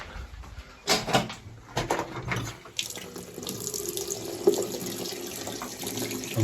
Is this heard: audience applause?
no